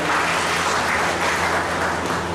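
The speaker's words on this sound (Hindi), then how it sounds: "उनके लिए प्लीज एक बार तालियां हो जाए।" Dense, continuous applause at a career guidance campus drive event for candidate Chandan Sharma, many hands clapping steadily and loudly from start to finish with a low hum underneath.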